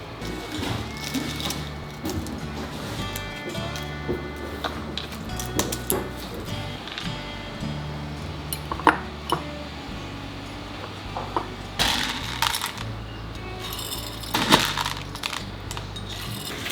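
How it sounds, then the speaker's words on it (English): Whole peppercorns and smashed garlic cloves are dropped into glass quart jars for fermenting vegetables, giving a steady patter of small hard clicks and rattles against glass over a low continuous hum. "we're gonna put 1 teaspoon of whole peppercorns in each quart jar, along with 2 smashed cloves of garlic"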